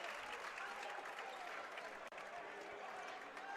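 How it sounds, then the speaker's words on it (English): A large crowd at a high school boys basketball state tournament semifinal applauds in a steady, sustained roar of clapping from the stands, with a broadcast commentator's voice running over it. "Gets a round of applause."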